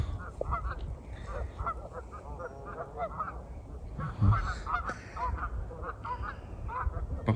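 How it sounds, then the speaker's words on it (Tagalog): A flock of geese honks continuously in Canada, with many overlapping calls heard at moderate distance over a low outdoor rumble. "So yun yung mga goose."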